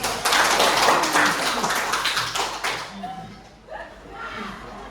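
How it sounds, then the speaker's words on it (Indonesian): A class of students clapping together in a classroom, a lively burst of many quick hand claps for nearly three seconds, then giving way to scattered voices talking nearby. "Coba tepuk tangan dulu"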